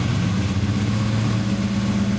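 A 1966 Ferrari 275 GTB six-carburetor engine runs steadily at idle with a smooth, throaty low hum and no voices over it.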